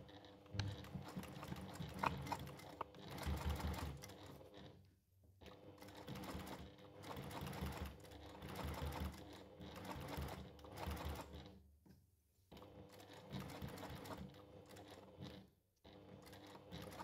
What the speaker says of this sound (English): Okay, now we're gonna top stitch this edge.